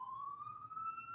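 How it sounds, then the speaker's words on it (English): An ambulance siren wails steadily as it goes past, a sustained rising tone holding through the whole moment with a faint low rumble beneath. "It's ambulance hour."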